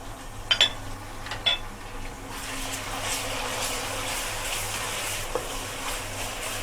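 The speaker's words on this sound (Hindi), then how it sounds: "चार से 5 मिनट लगेंगे हमें टमाटर को भूनने में।" Tomatoes frying with onion and crushed ginger and garlic, a soft continuous sizzle over a low hum, with a couple of light utensil clicks early on.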